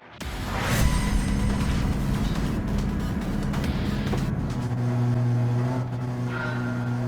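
Race cars at Daytona International Speedway in Gran Turismo 7, engines droning and revving loudly in a continuous pack, with tones shifting as cars accelerate and pass, no talking.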